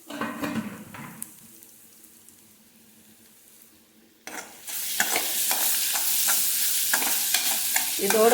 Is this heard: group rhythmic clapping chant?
no